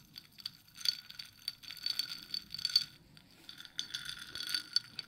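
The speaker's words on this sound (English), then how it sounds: "I love those ice sounds." Ice cubes rattle and clink in a glass of cold water, close and soft, in several short bursts of tinkling separated by brief pauses.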